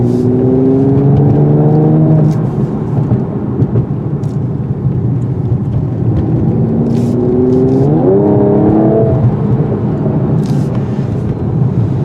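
Mercedes-AMG E53 or Lexus LS500 turbo sedan (2019) accelerating hard in Sport mode, loud engine pulling through rising revs, a gear change, then climbing again, with steady road and wind roar and no talk.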